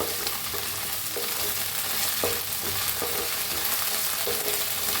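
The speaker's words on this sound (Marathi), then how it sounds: "कांदा छान असा भाजायचा लालसर कलर यूज तर हे अद्रक लसूणचा पेस्ट ते बी मिक्स करूया" Onion frying with ginger-garlic paste in a pan, a loud dense sizzle running throughout with occasional spatula scrapes and knocks, close up and with no talking.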